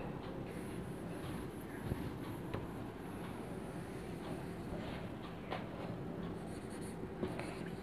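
Chalk or marker writes an accounting rate of return math problem on a board, with faint, steady scratching strokes and occasional taps in a quiet room.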